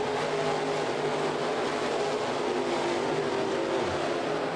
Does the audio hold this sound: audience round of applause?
no